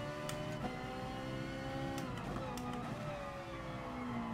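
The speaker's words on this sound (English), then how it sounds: "This GT4, this Ferrari Italia 458 GT4 variant is beautiful to drive" Ferrari 458 Italia GT4 race car engine in Gran Turismo Sport, a steady close-up tonal drone holding through corners with shifting pitch and brief upshift-like breaks, no talk over it.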